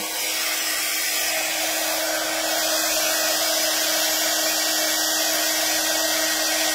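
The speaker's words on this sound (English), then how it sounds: "I'm holding the heat gun up quite high so it doesn't blow all the large chunks off before it has a chance to actually melt" A heat gun held high over large chunks to melt them, giving a steady, loud, close airflow whir with no breaks throughout.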